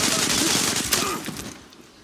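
A quick burst of rapid gunfire in the online shooter Zula, dense and loud at the start and tapering off over a couple of seconds.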